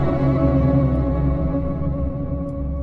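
A three-layered signature sound effect built for animation, a dense, sustained wash of rich harmonics with heavy low end, holding steady and loud for a few seconds while slowly thinning at the top.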